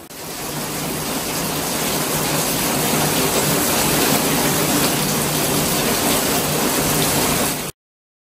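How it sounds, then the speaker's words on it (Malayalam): Heavy rain, a dense steady roar of downpour held at constant loudness before ending abruptly. "നല്ല ഗംഭീര മഴയും"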